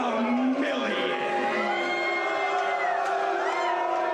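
Partisan wrestling arena crowd cheering and yelling for the challenger, a dense, loud, continuous roar of many voices with whoops rising above it.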